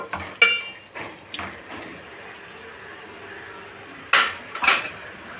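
A spoon stirs chili powder into tomato curry in a metal pan, giving sharp scraping clanks at the start and again near the end, with quieter sizzling and shuffling in between.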